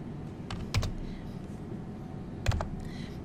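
Typing on a computer keyboard while coding in FMS Logo, with two short clusters of keystrokes standing out against a steady low background hum.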